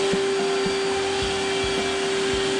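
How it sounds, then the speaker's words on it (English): A vacuum cleaner runs steadily nearby at a truck camper build site, giving a loud continuous motor whine with faint soft knocks underneath. "What is it about the vacuum that the dogs like so much?"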